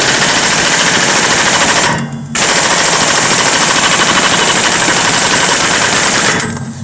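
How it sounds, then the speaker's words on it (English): Impact gun on its lowest setting tightening the rear axle pinion nut of a 2010 Ram 1500 4x4, a loud, close, rapid hammering rattle in two long bursts separated by a brief pause. "Again, I'm on the lowest setting on the impact gun"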